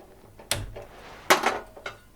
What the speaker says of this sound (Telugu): గిన్నె పెట్టుకుందాం.